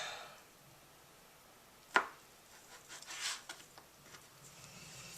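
A knife cuts kimbap fillings into strips on a board, with one sharp chop standing out and softer, irregular cutting sounds after it, close and quiet, with no talking.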